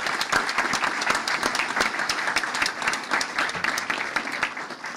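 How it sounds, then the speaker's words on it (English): An audience claps in sustained, dense applause at a ceremony renaming Historic Dodgertown in Vero Beach as the Jackie Robinson Training Complex; the clapping stays alone and steady for several seconds. "you deserve a round of applause for that"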